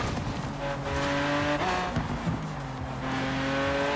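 A Lamborghini Veneno driven in Forza Horizon 4, its engine note rising and falling through gear changes with a brief tire squeal, loud and close, with no talking.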